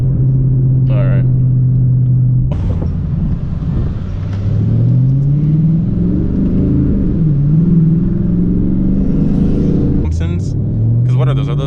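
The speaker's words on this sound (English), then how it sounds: "start in third, and then full throttle and go into fourth." A twin-turbo Ford Mustang GT, a sleeper build, rumbles loudly close by and revs up under full throttle. The engine pitch climbs and then drops as it shifts into fourth, with a few brief sounds from inside the cabin.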